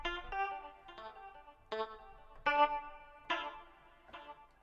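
Piano and strings sample from an FL Studio beat for a soulful track, played with delay: a series of struck chords, each followed by trailing echo repeats, with no voice over it.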